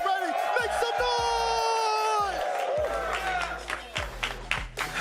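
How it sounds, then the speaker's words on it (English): Arena crowd at the Rocket League World Championship pre-show roars and cheers steadily, with whoops and scattered claps, while an announcer's voice rings over the noise. "the crowd is here. They're ready. Make some noise!"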